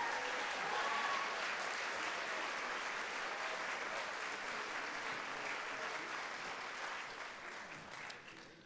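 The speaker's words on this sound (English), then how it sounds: "All right, give them a big round of applause." Sustained applause from a large crowd at a school spring band concert, steady and dense for several seconds before gradually tapering off.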